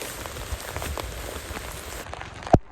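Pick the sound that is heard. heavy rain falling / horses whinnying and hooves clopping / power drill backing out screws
heavy rain falling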